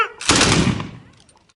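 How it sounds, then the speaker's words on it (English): A volley of Continental Army muskets fired together by reenactors at Fort Ticonderoga gives one loud, sharp blast that rolls out and fades over about a second, with faint talk before it. "And then they can make ready, preset, fire!"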